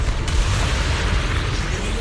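Zenless Zone Zero game explosions rumble loudly in a sustained, heavy low boom with a sharp burst near the start, dense and close throughout.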